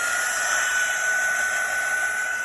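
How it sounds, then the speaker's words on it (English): A heat gun blows steadily to dry a stamped card, a constant loud whooshing roar with a high whine, unbroken and alone for the whole stretch. "I'm just going to get my heat gun just to dry this card off a bit"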